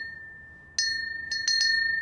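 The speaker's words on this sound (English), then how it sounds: "What about this really big bell?" A really big Christmas bell is struck several times, giving bright ringing dings with a sustained high tone in between, loud and close with no talking.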